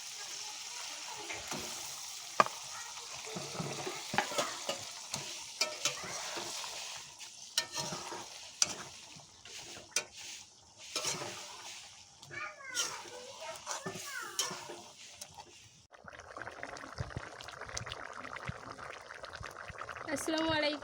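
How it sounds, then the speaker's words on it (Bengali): Stuffed pointed gourds simmer in boiling water for an egg dolma curry, a busy close bubbling and sizzling with intermittent clicks and stirring, while a voice speaks over parts of it. "এখানে জলটা ফুটছে পটলের ডোরমার সঙ্গে"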